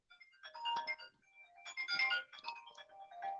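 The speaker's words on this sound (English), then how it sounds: "Just gonna let telemarketer just keep ringing." A phone ringtone plays a bright electronic melody, fairly quiet, in two repeating phrases with brief gaps.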